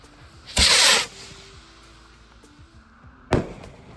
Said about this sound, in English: This is Nishiki Galaxy from the Miracle Fireworks brand.